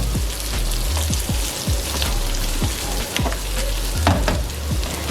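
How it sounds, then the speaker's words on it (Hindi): Bitter gourd pieces frying in a pan of oil, a dense, continuous crackling sizzle with soft stirring knocks, close up and steady throughout, no voices. "अब तकरीबन 10 मिनट तक हम इसे फ्राई करेंगे ताकि इनका कलर चेंज हो जाए"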